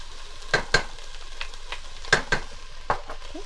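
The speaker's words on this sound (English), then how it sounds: "we're going to let this go for about 5 minutes, just until it's all nice and soft, sauteed" Frozen minced garlic sautés in a pot: a soft, low sizzle runs beneath sharp, irregular clinks and scrapes of stirring, in pairs and singles, near and fairly clear, with no talking.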